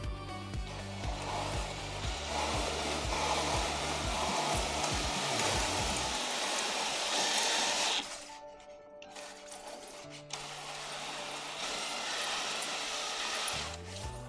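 A hole saw bores through a foam floor mat made for ice fishing, a steady whirring drone that changes pitch partway through, cuts off briefly, then resumes near and loud with no talk.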